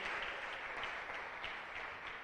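A church congregation claps together in steady, sustained applause, heard as a faint, even patter from a distance with no talk over it.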